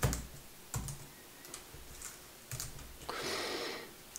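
Keys on a computer keyboard are tapped in short, scattered bursts of soft clicks, with a brief quicker run near the end, quiet and close.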